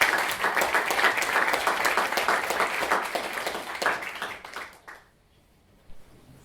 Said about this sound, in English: let's give him a big round of applause for what he's been telling us